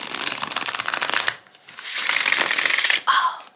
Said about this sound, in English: when I can comfortably shuffle a deck